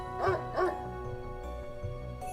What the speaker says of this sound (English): But the dog was barking like it lost its mind